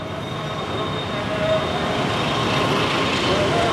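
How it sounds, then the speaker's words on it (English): An intercity train in Jakarta rumbles past nearby with a steady broadband roar and faint wheel squeal, continuous throughout. "There's a train, and that's an intercity train."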